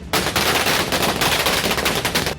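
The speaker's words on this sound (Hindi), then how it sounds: "आतिशबाजी का लंबा दौर चला" Firecracker strings set off by Congress party workers celebrating in the street, a dense, loud, continuous crackle of rapid bangs lasting throughout, with no voices.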